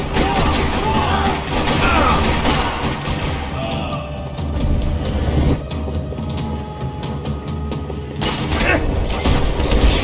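Gunfire rattles across a parking lot in Max Payne 3, with rapid bursts of shots, heavy booms and thuds layered over a continuous rumbling game soundscape; the barrage eases briefly midway and then picks up again.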